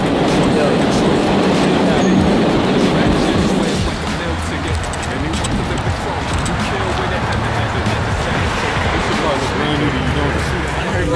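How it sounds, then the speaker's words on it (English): A New York City subway train rumbles and rattles steadily throughout, loud and close, with a voice talking over it. "Coming live from the subway in NYC."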